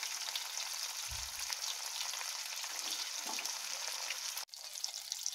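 Fish sizzling in a hot frying pan, a steady close hiss of oil with a few soft bubbling pops and a brief clatter near the end.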